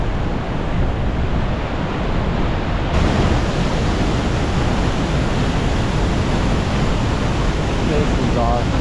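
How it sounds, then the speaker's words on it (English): Wapama Falls in Yosemite's Hetch Hetchy cascades into the reservoir, giving a loud, steady, unbroken roar of rushing water that fills the whole stretch. "This cascade coming into the reservoir is really cool."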